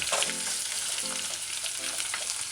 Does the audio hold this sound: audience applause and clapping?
no